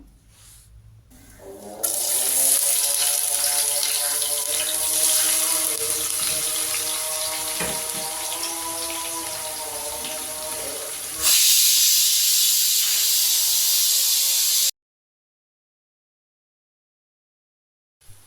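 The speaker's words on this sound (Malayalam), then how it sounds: "ഒരഞ്ച് വലിയ ഉള്ളി നീളത്തിൽ അരിഞ്ഞ് കനം കുറച്ച് അരിഞ്ഞെടുത്തതാണ് ഇതൊന്ന് നന്നായിട്ടൊന്ന് ഫ്രൈ ചെയ്തെടുക്കണം" Thinly sliced onions, about five large ones cut lengthwise, frying in hot oil for Kozhikode dum biryani, a loud steady hiss and sizzle that jumps brighter near the end, then cuts to silence.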